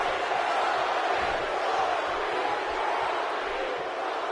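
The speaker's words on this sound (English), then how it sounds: "A Rocky chant from the crowd." A video-game wrestling arena crowd in WWE 2K18 roars and chants steadily, a dense continuous wash of many voices with no clear individual words.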